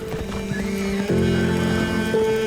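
Black Arabian horse neighing, a loud close whinny with pitch breaks and steady tones over background noise and some hoof clatter, no voices.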